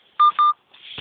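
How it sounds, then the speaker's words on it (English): A phone emits two short, sharp electronic beeps in quick succession, followed by a faint softer tone, close and clear against silence. "Sorry, my phone keeps beeping."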